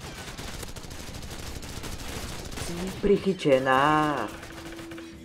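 Rapid gunfire in Call of Duty 4 on the Backlot map against bots, a dense crackling burst through the first seconds before people talk over the game.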